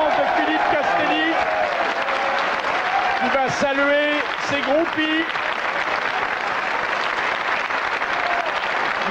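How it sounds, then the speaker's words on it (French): Studio audience applauding in a French television quiz show, a dense steady wash of clapping running throughout with a voice talking over it near the start. "qui s'applaudit lui-même."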